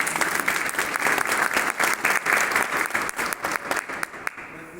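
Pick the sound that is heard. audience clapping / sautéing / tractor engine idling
audience clapping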